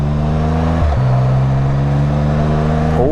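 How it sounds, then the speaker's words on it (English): A 2017 RTS, a three-wheeled road vehicle, running steadily on the road with a fresh drive belt, its engine showing signs of detonation knock; a continuous close engine drone with a brief dip and shift in pitch partway through, no talking. "I hear detonation."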